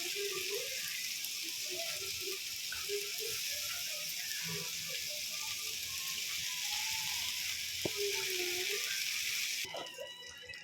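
Homemade noodles stir-fried in a pan, a steady broadband sizzle with scraping and clinking of the spatula throughout, fairly close, ending in a brief quieter pause.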